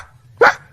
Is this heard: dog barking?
yes